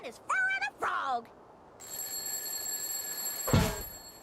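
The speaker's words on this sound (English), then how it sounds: "An alarm clock at Patrick's house?" A ringing alarm clock at Patrick's house in the SpongeBob video game The Cosmic Shake, Wild West Jellyfish Fields level, with a steady high tonal ring that holds for a couple of seconds after a short voiced line.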